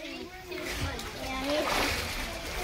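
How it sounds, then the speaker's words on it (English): A splash of water at a natural spring swimming area as people jump in, a brief sloshing burst under continuous nearby chatter and voices. "Y'all get splashed? I got splashed."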